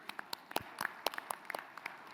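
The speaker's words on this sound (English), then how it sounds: "Let all show our appreciation with a round applause for our speaker." Scattered applause from an audience at a memorandum signing ceremony, sparse individual claps spread unevenly over a couple of seconds, faint and thin as if from a small group.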